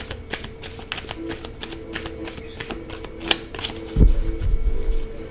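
Close, dry riffle-and-shuffle of a Secrets of the Tarot deck, a steady flutter of rapid card clicks for several seconds, ending with a soft thump as the cards settle together.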